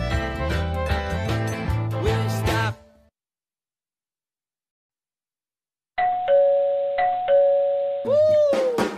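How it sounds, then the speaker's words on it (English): Doorbell chiming in a children's music program, a ding-dong ring heard loud and close after a stretch of music and a few seconds of silence, followed by a sliding tone. "Oh, ring, ring, doorbell ring."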